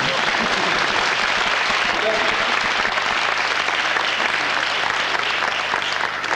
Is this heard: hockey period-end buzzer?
no